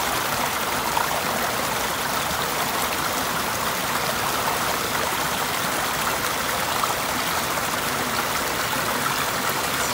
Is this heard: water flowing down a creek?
yes